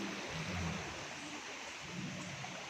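A stream flows in a soft, continuous wash of moving water, faint and fairly distant, with no voices over it.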